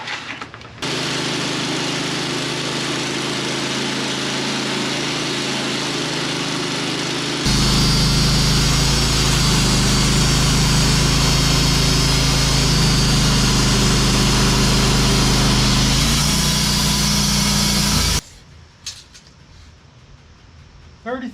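A chainsaw cutting through a massive oak log, a loud sustained engine roar that rises in pitch partway through the cut, then stops abruptly near the end, leaving quieter background.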